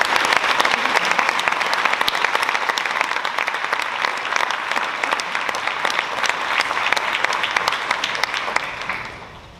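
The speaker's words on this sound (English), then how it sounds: "Can we give up a round of applause?" A school-event audience gives sustained, dense applause for Rotary Club scholarship winners, loud and continuous throughout before tapering off at the very end.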